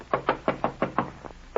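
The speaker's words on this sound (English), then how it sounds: "You jump at the sound of a knock on the door." Knocks on a door as a vintage radio mystery sound effect: seven firm, evenly spaced raps in quick succession, the last one softer, heard alone and up close.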